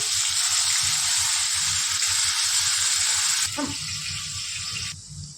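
Finely chopped onion frying in a pan with mustard seeds and cumin for paneer bhurji, a loud, bright, continuous hiss close by that eases slightly toward the end, with a low rumble underneath.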